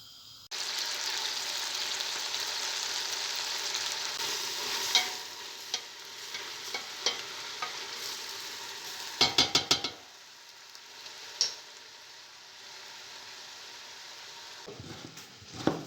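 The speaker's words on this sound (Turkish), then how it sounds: "Biberler kızarsın." Steady oil sizzle of peppers frying in a pan, continuous and close, with occasional clinks and scrapes of a utensil stirring.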